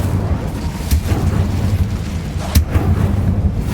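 An Incendio fire spell is cast in Hogwarts Legacy, with a low rumbling roar and two sharp bursting cracks standing out over continuous game ambience.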